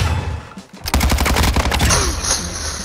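A rapid automatic burst from a gun in a first-person shooter, sharp repeated shots close and loud for over a second, then trailing game ambience with no talk.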